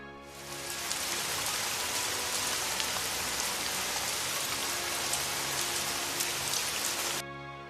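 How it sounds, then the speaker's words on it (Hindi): Heavy rain pours down steadily and loudly, a dense continuous hiss that stops abruptly near the end. "रात बहुत तेज बारिश होती है"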